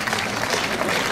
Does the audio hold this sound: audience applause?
yes